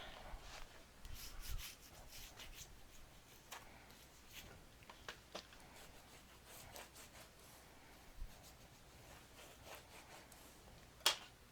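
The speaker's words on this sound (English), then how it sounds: "So I'm going to stick it down. Yeah, good enough for me. I'm going to burnish it." Paper stuck down in a Carta Bella autumn mini album is burnished with soft, faint rubbing strokes, close and uneven, with a sharp tap near the end.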